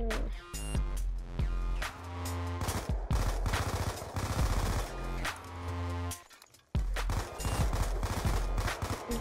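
Rapid automatic gunfire from the video game Black Ops 2, dense bursts of shots firing almost continuously with a short gap near the end.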